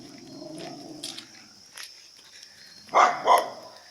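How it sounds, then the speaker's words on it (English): A big dog barks twice near the end, two close, loud, gruff woofs after a quieter stretch of faint rustling and background murmur. "It is a very nice dog, but she's a good protector."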